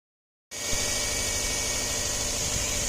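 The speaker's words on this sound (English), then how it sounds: "We're going to get this thing fired up, let the engine warm up, and roll it out of the garage." Jeep engine catching abruptly after a moment of silence, then settling into a steady, loud, even idle with a continuous hum and rumble, no voices.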